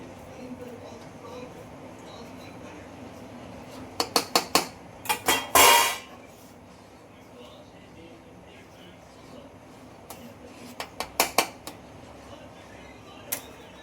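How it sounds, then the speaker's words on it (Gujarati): A spoon stirs milk and grated paneer in a pot while cow's-milk kalakand cooks, giving two short bursts of scraping, clinking strokes against the metal over a quiet background. "હવે આપણે આની આવી રીતના હલાવતું રહેવાનું છે"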